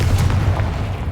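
Confringo blasting spell explodes in the Hogwarts Legacy video game, a single low rumbling boom that fills the short moment with a dense, muffled roar.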